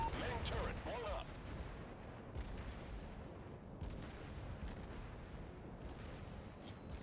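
Heavy naval gunfire and explosions from a warship battle in a video game, with a big burst at the start followed by repeated booming blasts and rumbling that continue steadily throughout.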